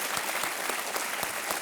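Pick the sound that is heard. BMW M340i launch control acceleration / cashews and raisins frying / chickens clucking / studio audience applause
studio audience applause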